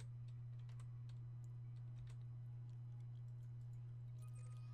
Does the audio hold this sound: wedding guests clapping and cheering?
no